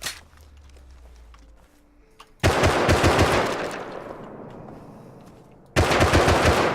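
Semi rifles fire in a video game, a rapid burst of gunshots cutting in loudly, trailing off, then a second loud burst after a brief lull.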